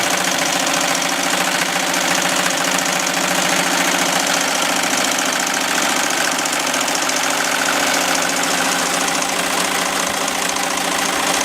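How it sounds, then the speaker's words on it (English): Embroidery machine stitching a design into leather, a loud, continuous mechanical whir with a rapid steady needle rhythm and rattling vibration, close up and unbroken throughout, no talking. "stitching right on the leather. It's actually gonna put a design in it and everything."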